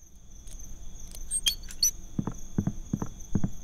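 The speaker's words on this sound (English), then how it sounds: "When I hear crickets" Steady insect chirps, like crickets, pulse rhythmically over a faint background hum, joined by soft low thumps and a few sharp high clicks.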